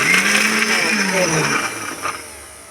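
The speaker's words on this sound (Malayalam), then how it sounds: "അപ്പോൾ ഇതൊന്നും ഇങ്ങോട്ട് കറക്കി എടുക്കാം മിക്സിയിലിട്ടുങ്ങാണ്ട്" A kitchen mixer grinder whirs loudly up close as it blends a salted fish chutney, its motor whining steadily and then easing down in pitch and loudness toward the end.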